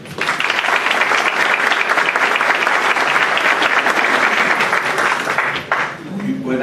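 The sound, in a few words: audience applause welcoming a speaker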